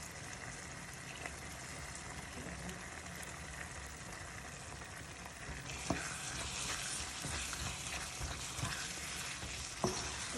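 Curry leaves fry in a Jaffna-style spicy mutton kidney curry, making an even bubbling sizzle that grows louder partway through, with a few faint spoon knocks and no voices.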